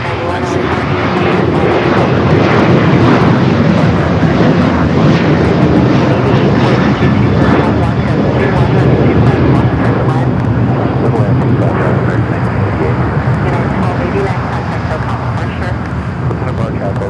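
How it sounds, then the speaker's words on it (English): A jet airliner passes at LAX on the south side, its engine roar loud and steady for the whole stretch, rising slightly and easing off toward the end. A voice talks over it. "So basically a plane that just flew."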